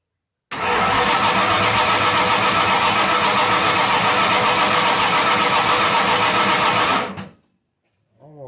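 A cammed 351 Windsor V8 cranking over without firing, a loud steady rhythmic starter churn lasting about six seconds and then cutting off abruptly, followed by a brief faint sound.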